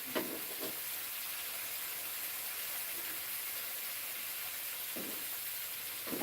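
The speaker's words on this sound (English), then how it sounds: "Oh, love the sizzle." Onions with beer sizzle in a frying pan, a soft steady hiss with a few brief crackling bursts. The sound stays faint and even throughout.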